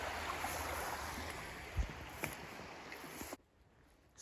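A stream of water runs across a muddy, rain-soaked trail in Boyne Valley Provincial Park, Ontario: a steady, fairly loud rushing wash that cuts off abruptly near the end.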